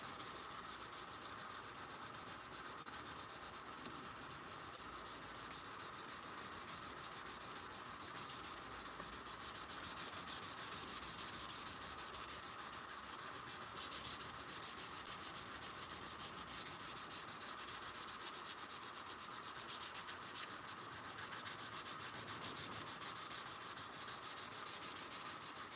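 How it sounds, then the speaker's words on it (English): Hand sanding of a wrought iron knife blade in a forge workshop, a faint, continuous rhythmic scratching and rubbing that keeps going for the whole stretch with no talking. "Doing some hand sanding on a wrought iron sand mine knife."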